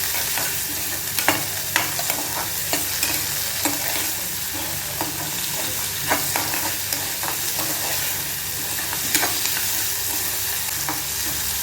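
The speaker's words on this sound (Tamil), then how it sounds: "தக்காளி இன்னும் போட்டிருக்கேன். அதையும் போட்டு மிக்ஸ் பண்ணிக்கலாம்." Tomatoes and salt stir-fry in a pan for a banana flower stir-fry, a loud, steady sizzle broken by repeated spatula scrapes and taps at an irregular rhythm, close up and without speech.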